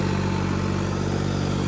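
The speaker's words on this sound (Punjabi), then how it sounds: "ਅਜੋ ਬਾਬੇ ਤੁਹਾਨੂੰ ਟਰੈਕਟਰ ਚੱਲਦਾ ਦਿਖਾਈਏ" A New Holland 3630 tractor pulling a super seeder in a wheat-sowing field runs with a steady, loud, close engine drone and no breaks.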